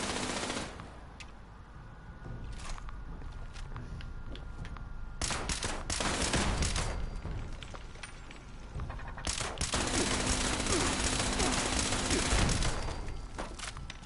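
Minigun turrets fire in Fallout 76, dense rapid bursts of crackling automatic gunfire that come in several loud waves over a constant background din of game sound.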